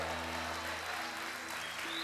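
A church congregation applauds during a sermon, giving a dense, steady wash of clapping that runs throughout the short moment, with a low tonal hum underneath.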